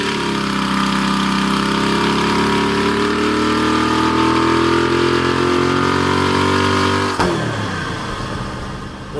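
A flathead engine running steadily and loud, carburetors drawing fuel hard through the intake, with a sustained droning roar and strong harmonics that abruptly drops and settles into a lower, rougher tone near the end.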